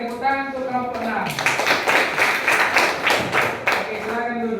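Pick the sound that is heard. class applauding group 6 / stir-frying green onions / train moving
class applauding group 6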